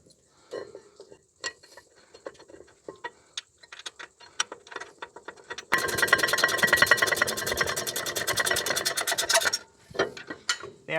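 A ratchet tightens bolts on the rear brakes of a Nissan Patrol, giving a fast, dense run of clicks for about four seconds. Sparse clinks and taps from handling parts come before and after, and a few faint voices are heard.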